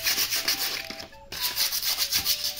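Fine sandpaper rubbing over a ceramic cup and saucer, a steady back-and-forth scratchy scraping with a brief pause midway, close and fairly loud with no talking.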